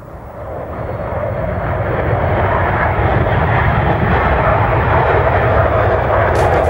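A military aircraft engine roars from a valley, a broad, loud rushing drone that swells in the first seconds and then holds steady and powerful.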